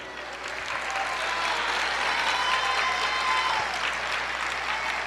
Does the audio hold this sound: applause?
yes